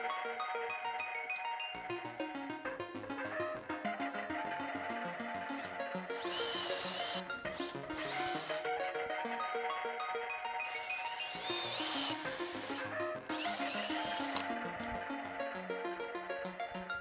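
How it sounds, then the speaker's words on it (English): A power drill bores through aligned holes in clamped wood, its motor whining in several bursts with short pauses between, close by and fairly quiet, with high-pitched squeals as the bit cuts. "I will then drill through these holes so that we get the holes exactly on the same spot"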